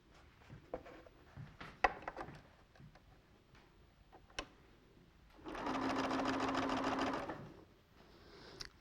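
A sewing machine runs in one short steady burst, stitching fabric log strips for a quilt, preceded by quiet handling taps and rustles; close and fairly soft.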